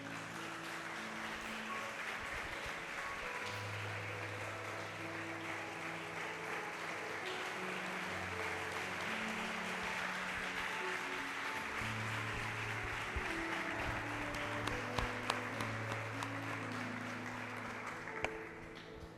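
A church congregation gives an extended round of applause to the Lord Jesus during a service, a soft, continuous patter of many hands under sustained organ or keyboard chords, with a few sharper claps near the end.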